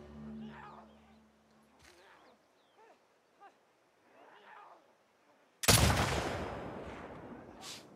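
Gunfire in the video game The Last of Us Part II: after quiet creature-like growls and soft movement, a single sharp loud shot bursts out and its echo rings and decays for the last seconds.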